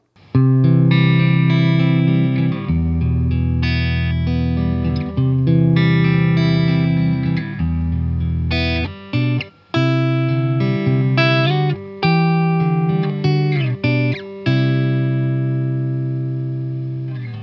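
Clean electric guitar tone from a Fender Deluxe Stratocaster, somewhat overdue for new strings, played into a Fender Deluxe Reverb amplifier: ringing chords and single notes with sustain, played alone with no talking.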